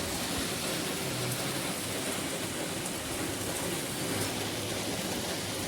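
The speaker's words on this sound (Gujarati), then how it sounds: "જબરજસ્ત વરસાદ આવે છે." Heavy rain pours down continuously in a Gujarati village, forming a close, even wash of hiss with no voices.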